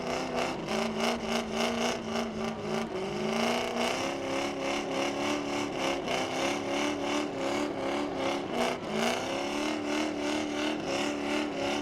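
A Grand Stock race car engine revving hard and continuously at Langley Speedway, pitch rising and falling with throttle blips, loud and close, the whine of a burnout.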